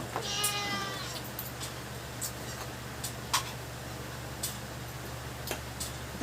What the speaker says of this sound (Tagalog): Nangangaw-ngaw na naman.